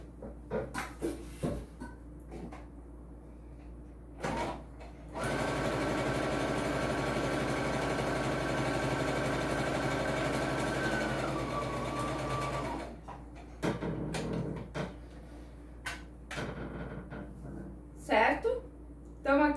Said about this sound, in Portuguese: vou fazer aqui uma costura de pesponto